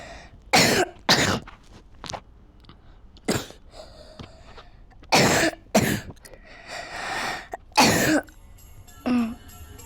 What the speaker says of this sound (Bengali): কাশি লাগছে